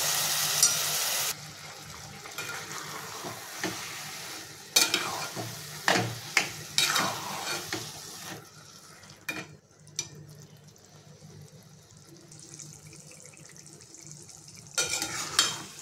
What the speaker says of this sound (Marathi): हा भोपळ्याचा कलर बदलेपर्यंत भाजायचं आहे त्याला, छान चॉकलेटी कलर येईपर्यंत भाजून घ्यायचे।